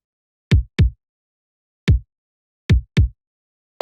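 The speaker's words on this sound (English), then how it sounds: "The reason why we have two kicks is because the first one gives us a lot of slap" A punchy, slappy kick drum sample from a nu disco production pack hits five times at uneven intervals, each a short, tight thump with a bright attack and a quick decay, played alone with silence between.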